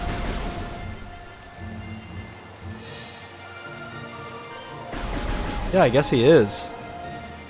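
Steady rain falls in the video game Metroid Prime Remastered, a soft continuous wash heard under players chatting, with a brief louder burst of game effects near the end.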